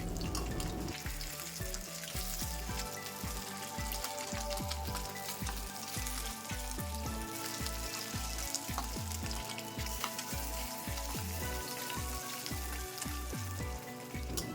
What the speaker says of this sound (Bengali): তেল গরম হলে তেলের মধ্যে দিয়ে দেবো আগে থেকে নুন হলুদ মাখিয়ে রাখা পুঁটি মাছ